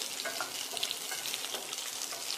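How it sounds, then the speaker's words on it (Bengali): Oil sizzles softly in a pan during shallow frying, a steady hissing crackle with faint stirring, quiet and close, with no one talking. "এটা কি মানে শ্যালো ফ্রাই হবে?"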